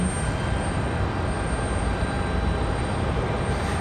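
An Airbus A220 airliner at Raleigh Durham airport gives a steady, broadband engine roar at moderate distance, constant throughout with no break and no voices.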